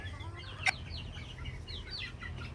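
Several native chickens on a farm cluck softly in quick, scattered calls close by, with one brief sharper sound partway through.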